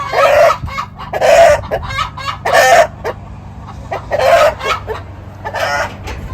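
A young hen clucks loudly and repeatedly up close after laying her first egg, a run of excited, rhythmic cackling calls with short pauses between bursts.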